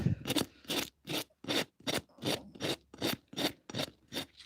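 A hand rasp files the edge of a hoof during a hoof trim, a run of about eleven rhythmic rasping strokes, close and steady, each a rough scraping burst with short pauses between.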